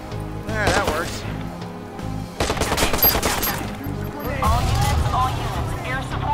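The player fires a gun in Watch Dogs, producing loud bursts of rapid gunfire in two or three volleys with someone talking over them.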